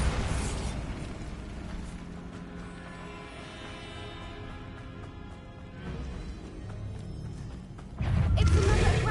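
A Bombarda explosion spell goes off in the Hogwarts Legacy video game: a dense, rumbling blast and crackle fill the clip, with a louder, heavier burst near the end.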